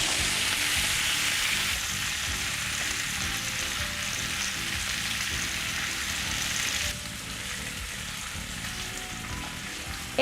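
Farofa toasting in a pan on a stove alongside a suckling pig steak dish, a dense, loud, even hiss of frying that drops slightly in level partway through and then carries on without talk.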